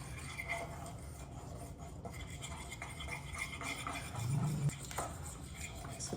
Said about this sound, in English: Just have a little whisk here.